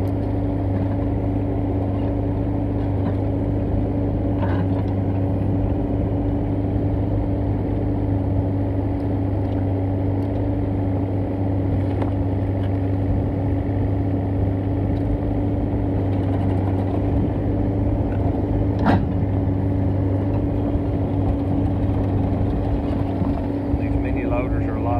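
A mini loader fitted with a wood splitter attachment runs at a steady, unchanging engine drone throughout. The low hum stays close and continuous, with only a few faint knocks and clicks over it.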